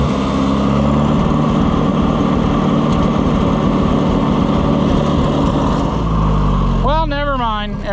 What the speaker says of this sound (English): That's idling very good now.